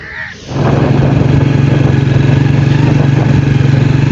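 A motorcycle riding over desert sand dunes revs up after a brief pause and holds a steady, loud drone, running close by without letting up.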